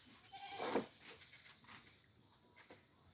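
A young goat bleats once, fairly near, while being fed tough jackfruit leaves, followed by quieter rustling and ambient noise.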